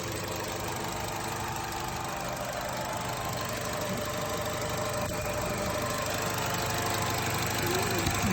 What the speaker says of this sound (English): the engine's loud.